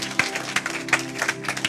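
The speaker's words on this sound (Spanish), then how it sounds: "Un fuerte aplauso" A church congregation claps in loose, scattered bursts, with individual sharp hand claps standing out from a thin patter of applause in a reverberant hall.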